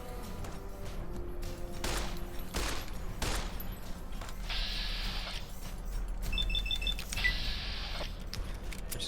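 Bursts of gunfire and sharp shots crack through a Fallout wasteland firefight, several volleys over a constant low background.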